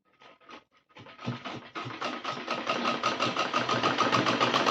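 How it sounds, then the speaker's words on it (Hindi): A sewing machine stitches a pocket onto a Rajputi lehenga, starting with a few short bursts and then running in a close, rapid, steadily accelerating mechanical chatter. "इस तरीके से थोड़ा आपको कली को खींच कर और फिर इसमें सिलाई करनी है।"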